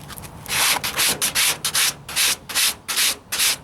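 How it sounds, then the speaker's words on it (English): Rough, scratchy sanding strokes repeat in a steady back-and-forth rhythm, loud and close, each pass a harsh gritty rasp. "Use a good grit, 36 grit, 40 grit sandpaper."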